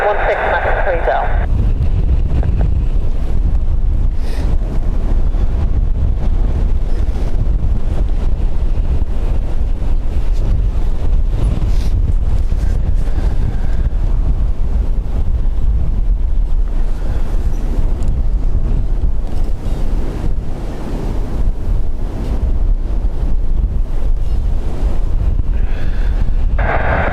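Strong wind blasts a microphone at Dublin Airport with a loud, constant roar and deep rumble that never lets up, while voices talk faintly underneath.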